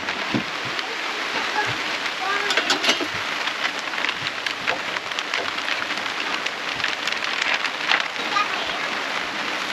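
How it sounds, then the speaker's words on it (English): Steady rain patters down at a forest campsite in Pennsylvania's Loyalsock State Forest, a dense close hiss with scattered louder drops, and voices murmur faintly beneath it. "Rain is here."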